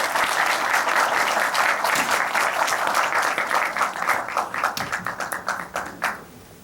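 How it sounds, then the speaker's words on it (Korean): Warm audience applause welcoming guests at a performance, dense crowd clapping that holds strong for several seconds before thinning into scattered claps and fading out. "뜨거운 박수로 환영해 주시죠."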